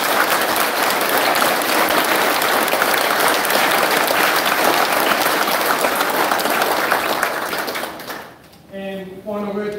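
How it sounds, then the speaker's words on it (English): Audience at a school prizegiving applauding loudly and steadily for about eight seconds before the clapping fades and a voice begins speaking. "Can we just give those kids a round of applause?"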